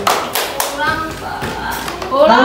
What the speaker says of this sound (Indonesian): Oke, bisa beri tepuk tangan kepada nomor 1 ya.